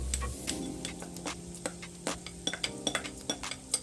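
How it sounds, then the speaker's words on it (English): Peppers added to a pan to sauté while making breakfast potatoes, with a stream of clinks and ticks from utensils against cookware building into a quicker rhythmic tapping, close and fairly loud with no voice. "So now I'm adding in the peppers."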